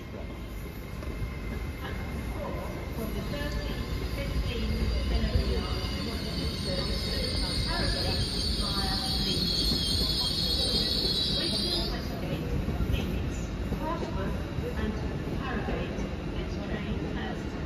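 An LNER Azuma train pulling into a platform at Doncaster station, a rumbling approach with a high wheel squeal that rises and then cuts off partway through, while a platform announcement plays over it.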